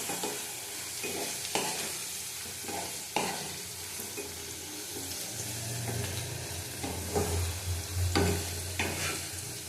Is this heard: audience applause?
no